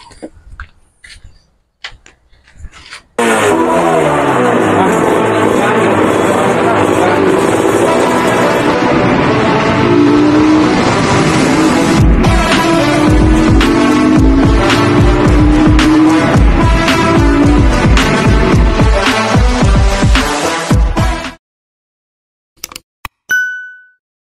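A motorcycle engine roars loud and raspy through an open-pipe muffler, idling and revving steadily for nearly twenty seconds before cutting off abruptly.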